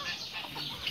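A giant Indian hen clucks softly and briefly, faint and close, with light rustling around it.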